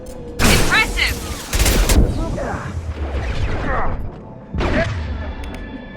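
Shotgun blasts in the video game Mass Effect 2, several loud close booming shots in bursts amid combat clatter, with a person talking over the action.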